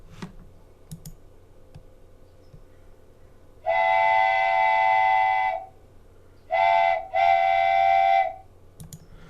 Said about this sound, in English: I want to do the wooden train whistle.